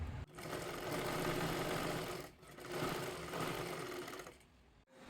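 A sewing machine running steadily while double-stitching a princess blouse, a close, continuous whirring stitch in two long bursts with a brief pause between them.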